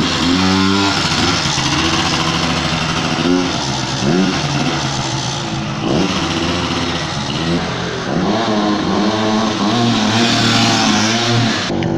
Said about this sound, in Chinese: 这是我的引擎哦。